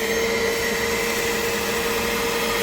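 Shampoo extractor machine vacuuming dirt from a car interior, a loud steady whining suction drone held close and unbroken throughout.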